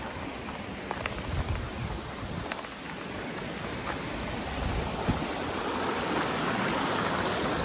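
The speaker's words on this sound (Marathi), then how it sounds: "हे वॉटरफॉल वलवली वॉटरफॉल." Steady roar of the Valvali waterfall, a broad, continuous rushing wash of falling water that holds at an even, fairly close level throughout with no voices.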